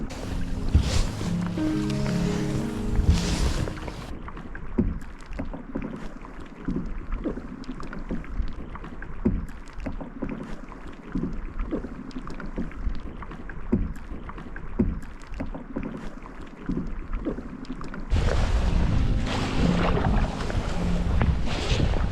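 A kayak paddled on calm water in Svalbard in June, with soft rhythmic paddle strokes and dripping splashes heard near and faint over a quiet stretch, framed by louder wind buffeting on the microphone at the start and end.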